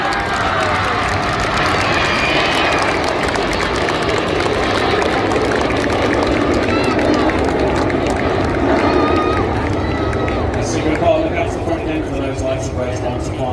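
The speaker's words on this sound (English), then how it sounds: "a round of applause for Synchro" Airshow crowd at Clacton-on-Sea applauding the Red Arrows Synchro pair, a steady dense wash of clapping and cheering with aircraft rumble underneath and a commentator's voice over it.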